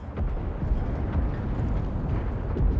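A deep, rumbling blast echoes through a World War II Normandy landing battle in the shooter game Enlisted, a sustained low roar with crackling debris that holds steady for a few seconds and plays without any talking.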